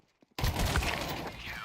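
After a near-silent start, loud automatic gunfire bursts out in a video game and continues as a dense, sustained volley to the end.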